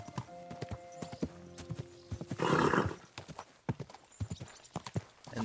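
Horse hooves clop in Kingdom Come: Deliverance II, brisk uneven footfalls close by, broken by a short whinny and a breathy snort midway, with no speech.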